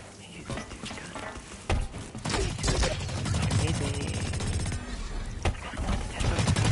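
Rapid bursts of gunfire from the Blacklight: Retribution shooter game fill the stretch, dense and continuous with sharp cracks, while game noise and a voice run underneath.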